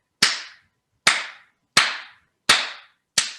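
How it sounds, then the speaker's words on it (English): Five sharp single hand claps used as cue signals during a breathing exercise, spaced roughly evenly about three-quarters of a second apart, each crisp and close with a short decaying tail in a quiet room. "when I make a sound like a clap"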